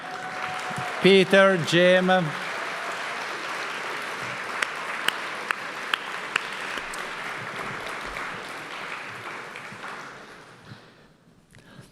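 An audience at a College of Computing Hall of Fame ceremony applauds past Hall of Fame members. A voice briefly names people first, then steady clapping fills the room for several seconds before fading out.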